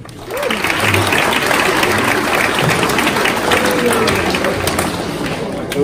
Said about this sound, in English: And another round of applause for this year's AV Health Committee.